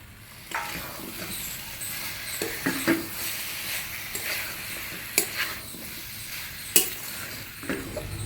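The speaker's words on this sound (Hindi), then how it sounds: "भजा आलू पकेबा" Fried potatoes stirred into a jackfruit curry sizzling in a pan: a soft, steady sizzle under scattered scraping and clinks of a spoon against the metal, fairly quiet and close.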